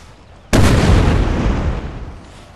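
A sudden loud cannon blast from artillery in the video game Napoleon: Total War, a single heavy boom at about half a second that rolls on and decays slowly over the next two seconds, with no talking.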